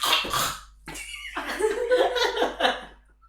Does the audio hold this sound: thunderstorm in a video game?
no